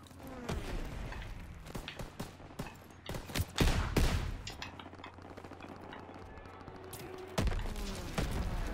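Gunfire from Call of Duty: WWII, with rapid bursts and heavy booming shots in a battle, loud and dense at first, then a quieter stretch before another strong blast, with a low engine-like drone underneath.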